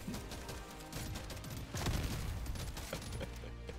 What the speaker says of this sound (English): grenades are actually doing their job for once